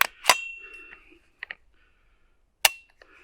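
Ruger PC Carbine with Tandem Cross bolt keeper being cycled and dry-fired with no magazine: a few sharp metallic clacks and snaps, the bolt slamming home at the start and again near the end, with small clicks between, close and loud.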